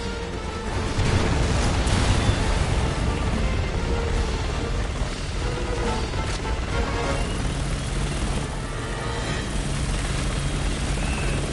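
A helicopter in the Resident Evil video game gives a loud, continuous rotor roar with heavy low rumble, holding steady for about eleven seconds with no voices over it.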